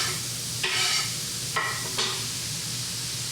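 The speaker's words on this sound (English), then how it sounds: "Get those chanterelles onto a dry frying pan." Chanterelle mushrooms hit a hot dry frying pan, with three bursts of sharp sizzling as pieces land and are stirred, over a steady low background rumble, with no talking.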